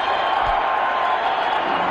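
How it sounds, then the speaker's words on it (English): A large cricket crowd at the Vadodara stadium during a 2002 India versus West Indies one-day international roars in a steady, dense wash of cheering that stays loud throughout. "And suddenly the crowd come to life."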